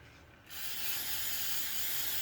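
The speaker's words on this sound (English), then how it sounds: "Now, the neat thing is I just spray everything down just like that." Breakfree Powder Blast cleaner sprays onto a polymer pistol in one sudden, loud, continuous hiss that starts after a brief quiet moment and holds steady to the end.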